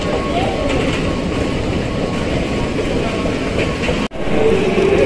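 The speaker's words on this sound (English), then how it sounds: "Dito na naman ako sa Metro" A Dubai Metro train rides along with a steady, loud rolling rumble and rail noise throughout. A brief dropout breaks the sound near the end.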